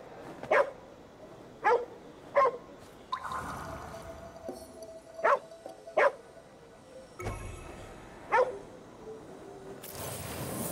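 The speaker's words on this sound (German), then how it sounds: "Das ist ein Hund." A dog barking in the video game Ghostwire: Tokyo, several sharp separate barks in loose pairs over ten seconds, fairly close, with soft ambient game sounds between and a burst of noise at the end.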